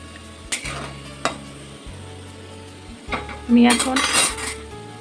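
Garlic frying to light golden in a pan for South Indian tomato pickle, with a low sizzle under sharp metal spoon clinks and a loud burst of scraping and clattering against the pan near the end.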